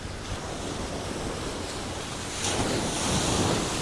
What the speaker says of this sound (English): I'm not sure if the wind has hit its maximum right now or it's going to build and still get a little windier.